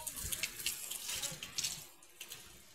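Water runs from the tap of a new water pot in a light, steady trickling splash, fairly faint and close, easing off toward the end.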